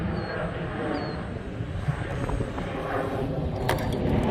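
An RC model airplane comes in to land at roughly quarter throttle, its small engine a steady, moderately loud drone mixed with outdoor wind noise, with no talking.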